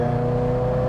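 A Maserati Cambio Corsa's Ferrari 4.2 V8 engine holds a steady, loud rev at about 4,500 RPM in third gear, heard close in a single brief sustained burst with no talking.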